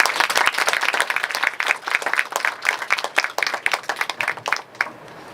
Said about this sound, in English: So let us welcome her with a big round of applause.